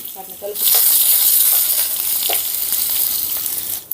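Mustard seeds, garlic cloves and dried chilli pieces hit hot oil in a pan for a tempering, starting a loud, steady sizzle after a brief quieter moment, with scattered pops and crackles running throughout.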